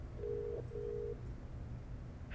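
Telephone tones as a call is dialed to a show, two short steady beeps in quick succession, faint against background hiss.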